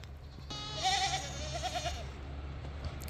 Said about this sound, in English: Those goats are getting fat.